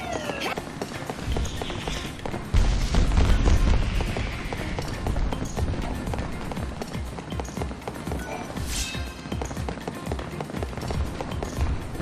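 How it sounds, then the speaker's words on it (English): Fireworks launched into the sky during a festival in the Lightning Returns video game: a dense, busy run of crackles and pops with a few whistling rises and soft booms, mixed under game ambience. "When the time comes, the fireworks are launched up into the sky."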